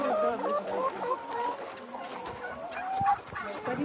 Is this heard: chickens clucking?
yes